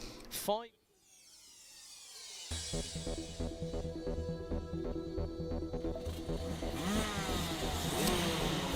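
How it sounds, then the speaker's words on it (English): DD2 racing kart engines rev on the grid at a wet Latvian kart race, building from a sharp burst into a sustained, rising buzz of several engines under an announcer's commentary. "Now the revs kick into life as we go to DD2."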